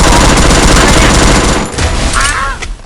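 Rapid automatic gunfire from the battle-royale video game Free Fire, loud and dense for the first second and a half, then thinning into scattered shots and game noise with a short tonal effect near the end.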